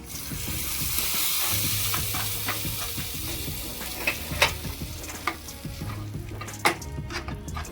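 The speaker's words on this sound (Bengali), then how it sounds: "এক চামচ মতো হিং দিয়ে দেবো, 2টো শুকনো লঙ্কা আর কারি পাতা দিয়ে দেবো।" Hot oil sizzles loudly as hing, two dried chillies and curry leaves are tempered, with steady frying crackle and a few sharp pops and clinks over about eight seconds.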